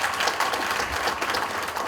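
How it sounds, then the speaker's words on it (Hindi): A large audience at a Royal Diamond Celebration event in Rourkela, Odisha claps in honour of an honoree, with steady dense applause from many hands at a constant level. "आदरणीय राजेश साहू सर के सम्मान में सम्मान भरी तालियां चाहती हूँ"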